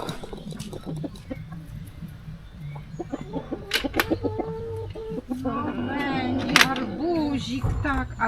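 Several chickens cluck and squawk nearby, scattered calls building to a busier flurry toward the end, with a person talking softly among them.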